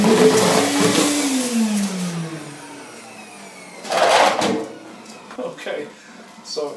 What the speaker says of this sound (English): I'm going to switch the vacuum cleaner on.